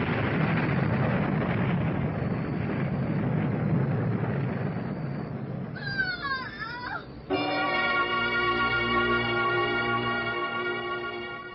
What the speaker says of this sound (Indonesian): Tiba-tiba mereka dikejutkan dengan suara ledakan di atap rumah itu.